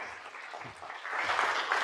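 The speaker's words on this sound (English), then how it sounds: "Give him a round of applause." A room of people at a trade summit in Dubai clapping, moderate and steady, swelling slightly toward the end.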